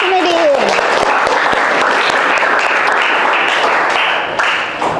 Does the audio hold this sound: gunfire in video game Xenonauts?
no